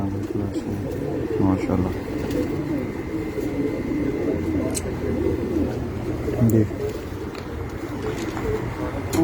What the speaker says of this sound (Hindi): ये भी मेरे घर का माशाल्लाह बहुत ही अच्छा कबूतर उड़ा